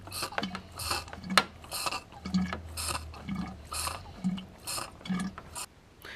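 A small hand pump draws old coolant out of the reservoir of a 2011 Toyota Sienna, giving repeated squelchy, ratcheting strokes in a steady rhythm with liquid gurgling, close by and moderately loud, with no talking.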